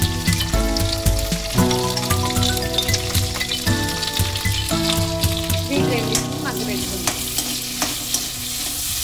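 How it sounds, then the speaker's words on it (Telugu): Green chillies fry in oil in a pan for a ridge gourd chutney, giving a steady, close sizzle with crackling pops and some stirring scrapes that run evenly throughout. "ఇందులో పచ్చిమిర్చిని వేసుకుని వేయించుకున్నాను"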